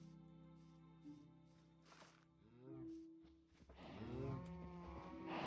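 Cows in the Minecraft video game low and moo repeatedly at close range, with several drawn-out calls overlapping in a livestock pen.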